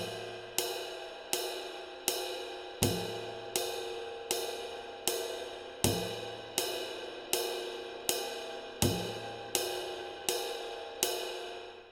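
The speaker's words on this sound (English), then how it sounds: "Now let's add the bass drum on the first beat." A steady run of ride cymbal strokes with a drumstick, played alone in a bossa nova pattern, with a low bass drum thump landing on every fourth stroke under the ringing wash.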